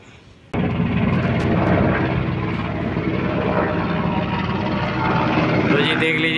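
After a brief quiet moment, a helicopter's steady thudding rotor roar, played back on a Philips RM 480 tape recorder, starts abruptly and continues loudly, with a slightly boxy, played-back quality.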